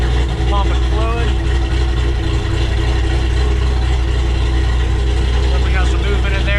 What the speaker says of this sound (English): See our tank, pumping fluid.